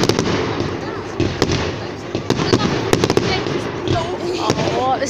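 Fireworks burst at a large bonfire night display at Hardwick Hall, with repeated sharp cracks and booms over a constant crowd murmur, some bangs close and loud, others distant, and people talking throughout.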